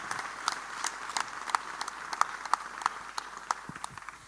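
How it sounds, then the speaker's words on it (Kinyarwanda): Sparse, fairly faint hand claps from a small church audience at a youth teaching, a handful of scattered claps rather than a full ovation. "Tubakomera amashyi."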